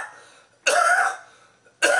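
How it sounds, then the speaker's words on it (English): A person coughs twice, each a harsh, close burst lasting about half a second, separated by a quiet pause. "I've still got this bad cough for days and days and days and months."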